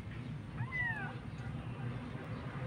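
A kitten in a neighbor's backyard gives one clear, high meow, close and fairly faint, over a quiet outdoor background.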